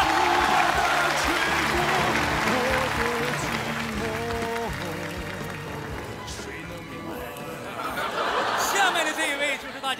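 Applause and chuckles from a television comedy sketch audience, set in a cruise ship gambling contest, rising under ongoing talk and swelling louder toward the end.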